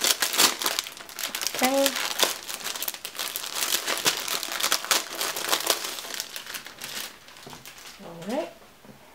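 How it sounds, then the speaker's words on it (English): A thin plastic sleeve being opened crinkles and crackles loudly up close for several seconds, with brief rustling bursts and a voice speaking briefly. "another little plastic sleeve. Whoops, I can't seem to open it"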